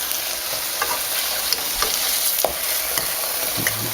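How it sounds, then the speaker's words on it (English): Thick pork chops fry in a pan with a loud, dense, close-up sizzle that holds steady throughout, marked by a few small crackles and no voices. "while those pork chops are going, I have to come over and flip those babies around"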